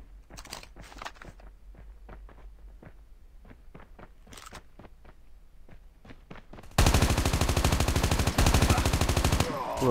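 Gunfire in the mobile shooter Call of Duty Mobile: quiet scattered footstep-like taps and a few sharp shots, then a loud, sustained burst of rapid automatic fire fills the final few seconds.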